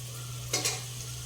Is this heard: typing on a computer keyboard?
no